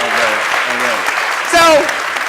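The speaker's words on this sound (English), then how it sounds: "Can we give them another clap of praise?" Short audience applause for a panel at a criminal justice forum, a dense patter of clapping under talk, with a brief louder shout or cheer in the middle.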